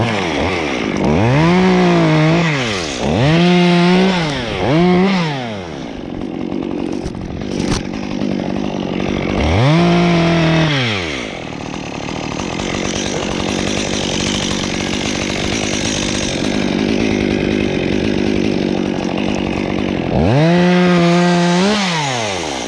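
A chainsaw cuts a large cedar during a climbing removal in Rotterdam, revving loud and close in repeated bursts, with a long steady cut in the middle and a final burst near the end.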